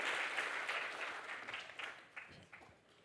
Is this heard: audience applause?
yes